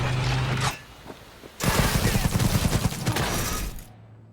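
Rapid bursts of weapon fire from a gun in Cyberpunk 2077 crackle loudly, a short burst and then a longer sustained volley of dense, repeated shots.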